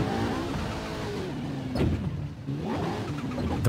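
A fast car in Forza Horizon 5 drives hard, its engine droning steadily with rising revs and shifting pitch, loud and close, no voices.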